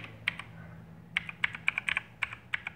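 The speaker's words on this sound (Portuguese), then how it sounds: "Ele é um teclado mecânico, visivelmente é um teclado gamer" Typing on a mechanical gaming keyboard with illuminated keys: a dozen or so sharp, close key clicks in uneven bursts over a low steady hum, no talking.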